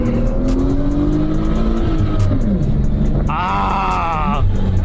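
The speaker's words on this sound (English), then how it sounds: "give this a nice little freeway pull. Let that supercharger do its thing." A supercharged car pulls hard on a freeway: a loud, steady engine roar with rising pitch and a brief higher whine partway through, continuing to the end.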